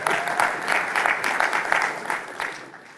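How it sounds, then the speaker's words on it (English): Audience clapping during a tech conference session, a moderate burst of hand claps from a seated crowd lasting a few seconds, fairly even and tapering off. "Thank you for clapping."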